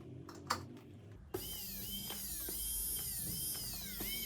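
A repaired Tefal blender runs in its final test: a few small clicks and handling knocks, then the motor starts with a sharp onset into a steady, close whirring hum with slight periodic wobble, no talk.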